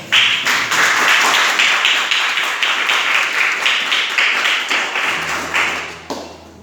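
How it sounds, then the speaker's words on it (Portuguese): A church congregation claps loudly together in a strong, rhythmic unison beat, sharp repeated hand claps filling the room before tapering off near the end. "desocupa as tuas mãos e aplauda os céus bem forte"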